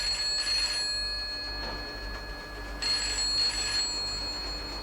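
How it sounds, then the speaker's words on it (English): A telephone rings in an office with bursts of bell tone near 0.3 to 0.8 seconds and again around 2.8 to 3.8 seconds, heard alone over a low background hum. "That's the telephone ringing, sir."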